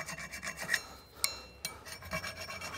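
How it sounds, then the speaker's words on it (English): A hand-held metal file rasps back and forth over a BMW F15 X5 or F16 X6 brake caliper carrier, producing steady gritty scraping strokes with a couple of sharper scrapes and no voices. "It's pretty clean with just the file"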